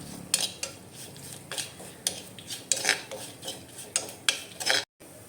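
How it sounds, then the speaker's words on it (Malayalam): A spoon scrapes and clinks against a pan in quick, regular strokes as turmeric and chili powder are stirred together. The scrapes are close and fairly quiet, and they stop abruptly near the end. "രണ്ടും കൂടിയിട്ട് നന്നായിട്ട് ഇളക്കി കൊടുക്കുക"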